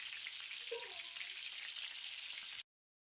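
Okra and potato sauté with coriander powder, salt and spices in a pan, giving a soft, steady sizzle with a few faint stirring scrapes before cutting off abruptly.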